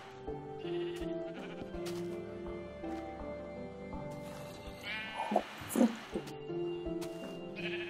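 Sheep in the Minecraft video game bleat repeatedly over a steady game soundscape, with a few louder, closer bleats clustered near the end.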